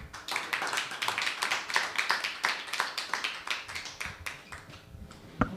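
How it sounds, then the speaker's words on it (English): Audience applause greets a guest invited onto a stage, a dense spread of hand claps running steadily for several seconds before thinning out, with faint voices mixed in. "Please give a warm round of applause"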